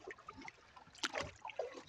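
Faint paddle strokes and soft water splashes from a canoe on a lake during a solo wild camping trip, a few quiet swishes with one brief louder splash near the middle.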